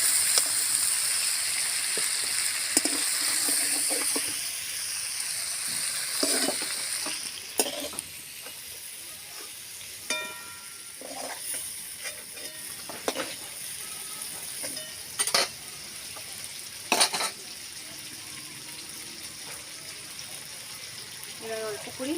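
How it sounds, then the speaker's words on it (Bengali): Chicken pieces fry in a pan and are stirred, a continuous soft sizzle broken by scattered clinks and scrapes of the spatula against the pan, some sharper taps standing out near the middle and end. "মাংসটা দেখুন এইভাবে ভেজে নিয়েছি"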